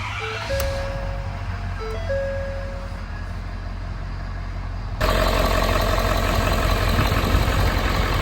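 A Ford F-350 pickup truck engine turns over and catches after a serpentine belt replacement, then settles into a loud, steady idle with a constant low rumble; faint tones sound beforehand.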